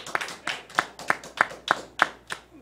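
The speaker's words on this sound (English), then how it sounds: "some people clapping for the yes and some people is clapping for the no" Rhythmic clapping from a small audience, about eight sharp, evenly spaced claps close by, loud and on their own.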